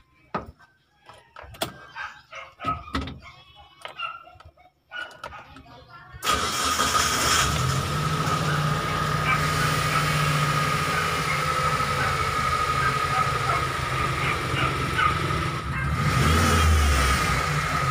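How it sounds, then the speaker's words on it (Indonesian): A fuel-injected T120SS car engine with a flute-like whine when revved: first a few clicks and clunks, then the engine runs loudly and steadily with a rev surge near the end, while someone talks. "terdengar ya bro suaranya saat digas, nging seperti itu"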